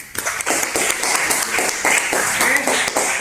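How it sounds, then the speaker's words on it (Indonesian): A classroom of students applauds after a group presentation on funeral rites, a dense, steady patter of many hands clapping close by for about three seconds, with scattered voices mixed in. "Oke, tepuk tangan."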